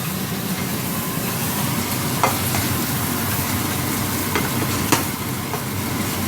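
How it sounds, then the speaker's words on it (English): Onions and mushrooms fry in a pan, a loud, steady, close sizzle with a few sharp stirring clicks and scrapes breaking through the hiss. "our onions are starting to sweat down a bit"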